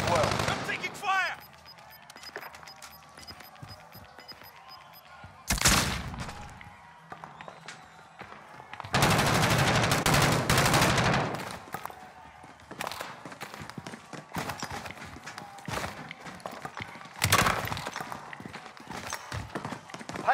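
Gunfire in the video game Call of Duty Warzone, with bursts of rapid shots and loud blasts scattered across a busy battle mix, while a voice talks at times.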